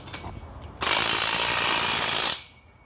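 A power tool runs in one continuous buzzing burst of about a second and a half, driving bolts tight on a metal swing assembly at close range before stopping abruptly.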